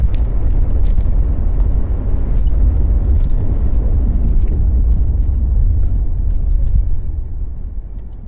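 A car accelerates up a slip road onto the M1 motorway out of London, giving a loud, continuous close-up engine and road rumble that holds steady before easing slightly at the end.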